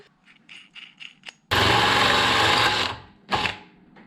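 25 mm hole saw on a drill cutting through sheet metal, a loud, close whirring grind of about a second and a half, followed by a short second burst, with faint handling sounds before it.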